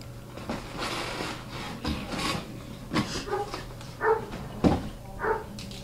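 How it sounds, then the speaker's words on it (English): A dog barks a few times at a distance, muffled as if outdoors, amid rustling and light handling noises. "We have some dog outside barking"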